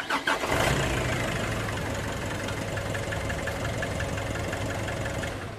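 Nissan NV350 van engine cranking and catching right after an oil change: a brief burst of starter noise, then a steady, fairly close idle with a rhythmic clatter and low hum that continues without any talking.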